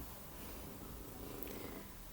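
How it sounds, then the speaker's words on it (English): A domestic cat purrs loudly and steadily, a continuous low rumbling drone held close to the listener with no talking over it. "she's purring really loudly"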